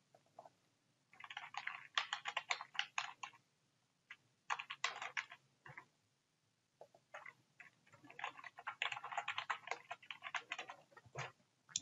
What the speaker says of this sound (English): click anywhere and start typing